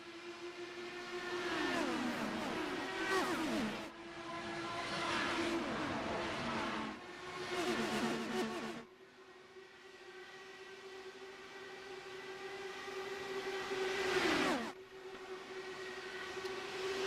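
IndyCar race cars from a racing video game roar together at the start of a race at Chicagoland, a sustained loud, high engine drone with swelling passes and pitch drops as cars go by.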